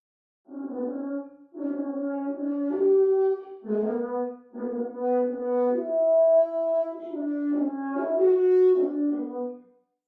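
A brass horn plays a slow, smooth melodic phrase of sustained notes, close and clear, with no talking.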